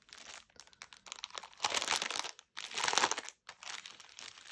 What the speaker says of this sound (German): Ich hoffe, es raschelt jetzt nicht zu sehr, wenn ich das auspacke.